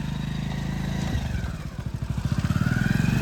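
A motorcycle engine runs close by, starting as a steady idle and then breaking into a rapid, throbbing putter as it creeps along and is parked.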